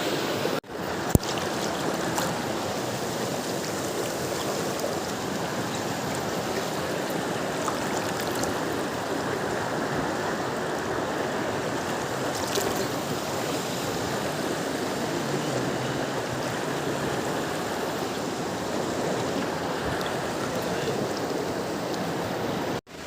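The Karbi Langpi river flows in a steady, full rush of water, constant and fairly close, with a couple of sharp knocks near the start and no voices.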